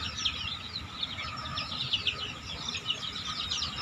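Chickens and chicks on a farm cheep and chirp in quick, bright repeated calls over a low background rumble, fairly close and continuous.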